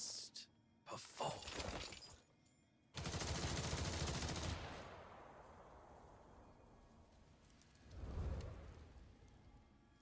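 Guns fired by units in the video game Duet Night Abyss: a sharp shattering crack, then a heavy burst of gunfire that rings out and decays, followed later by one more loud boom.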